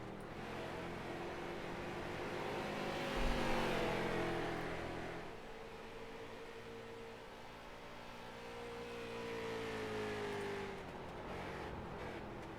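Race cars lapping the Phoenix oval in a sim racing championship, engines droning steadily in a close pack with rising and falling pitch as they come through, a louder swell midway, no talk.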